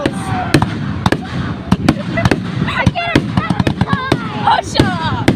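Big shell fireworks at Pounawea burst in a rapid volley of sharp loud bangs with crackling tails, while excited voices exclaim and chatter throughout.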